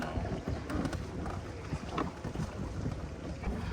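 Wind gusts across a lake during a bass fishing tournament, buffeting the microphone as a steady, loud, low rumble that runs throughout without voices.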